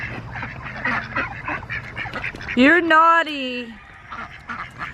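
Ducks quack near their damaged enclosure on a farm with goats, a short burst of harmonic honking calls rising over steady background noise while a person speaks nearby.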